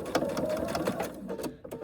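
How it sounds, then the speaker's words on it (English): A sewing machine top stitching a D-ring tab on a small leather wallet, a quick run of close, rapid mechanical stitch clicks that slows and stops near the end. "I will go ahead and top stitch this to keep it in place."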